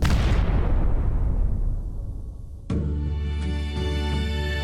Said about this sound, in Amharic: ትልቅ ፍንዳታ ተፈጠረ።